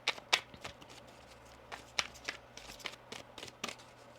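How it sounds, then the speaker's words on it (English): Tarot cards are shuffled up close in a quick series of crisp riffling bursts, about a dozen short soft slaps and flutters in an irregular rhythm, quiet and with no talk. "One more shuffle here."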